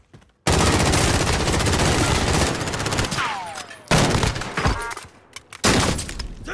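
Warzone gunfire starts as a loud, sustained automatic burst after a brief silent moment. It breaks off, then returns in louder, abrupt bursts of shots later on.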